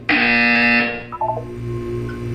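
A loud electronic buzzer blares steadily from the Portal 2 video game for nearly a second, then gives way to a short descending series of tones and a lingering low hum.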